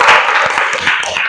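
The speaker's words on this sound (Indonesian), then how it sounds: "Kita berikan aplaus buat kelompok 1." Applause from a classroom audience for the first student group after its presentation, a brief burst of dense clapping at close range with voices mixed in.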